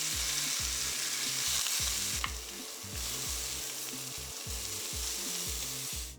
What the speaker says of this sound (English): Grill the bok choy for about 2 to 3 minutes until you get a nice char.